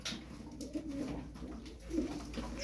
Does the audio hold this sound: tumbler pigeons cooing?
yes